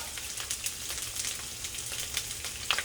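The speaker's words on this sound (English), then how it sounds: "now we're gonna cook the shrimp" Shrimp frying in a pan with ginger and garlic, a continuous soft sizzle with small crackling pops, fairly close and without talk.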